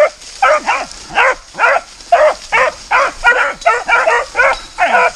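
Foxhound and beagle hunting dogs bay at a wild boar, giving about a dozen loud, close, evenly spaced bays in a steady rhythm with no talk over them.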